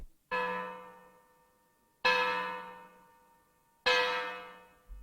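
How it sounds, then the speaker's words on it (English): Three loud, resonant bell strikes about two seconds apart, each ringing out and slowly decaying before the next toll. "Sikes and Fagin heard the church bell."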